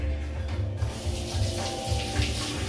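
A tap runs water while an apple is rinsed under it, a steady splashing gush with uneven swells, close and fairly loud, with no talking.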